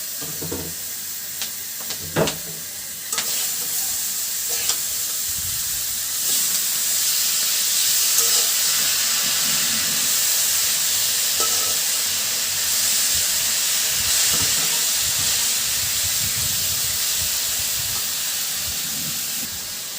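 Onions and chillies fry in an outdoor village kitchen pan, a loud continuous hiss and sizzle with occasional knocks of a stirring utensil, steady throughout with no talk.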